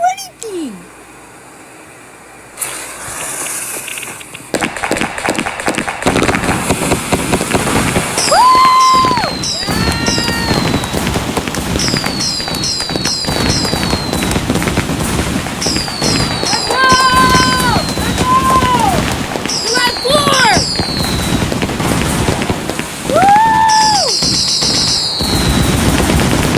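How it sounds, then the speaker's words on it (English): Fireworks on a playground crackle and pop in rapid, machine-gun-like bursts with whistling rockets rising repeatedly, loud and close, while children and adults talk and exclaim throughout. "What's fireworks going on over there?"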